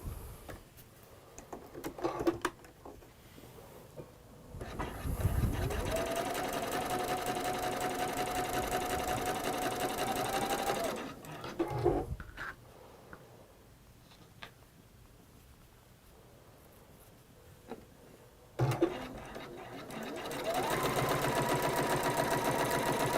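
A sewing machine chain-pieces quilt squares in long continuous runs, stopping briefly between seams, loud and close.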